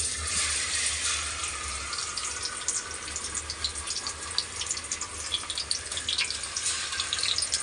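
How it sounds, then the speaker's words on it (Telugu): Fish pieces fry in hot oil for a Telangana-style fish curry. A soft, continuous crackling sizzle carries small bright pops scattered throughout. It is faint and close, with no talking. "కొద్దిసేపు ఆయిల్లో ఫ్రై చేయాలి వీటిని కర్రీ కోసం"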